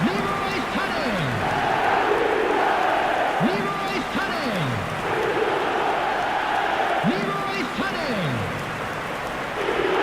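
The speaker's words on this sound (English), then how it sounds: "The crowd are calling for this to be put to bed" Stadium crowd noise from an eFootball match with Arsenal two goals up: a steady, dense roar of distant fans runs throughout, with rising and falling chant-like swells repeating every few seconds.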